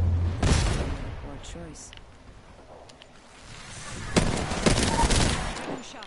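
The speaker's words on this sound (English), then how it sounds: "Opening fire." Gunfire in Apex Legends, two clusters of loud, close rapid shots with a quieter stretch between, while a voice speaks briefly.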